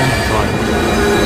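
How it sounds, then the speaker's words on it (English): A train roars past in the Alien Isolation video game, a loud, dense, continuous rumble with metallic squealing and rattling throughout, close and overwhelming, with no voices. "Where the frick did the train come from?"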